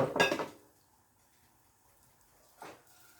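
Chopped pieces drop into a pan for sautéing, a short clattering rattle of food and metal up close, then a fainter second scrape a couple of seconds later in an otherwise quiet kitchen.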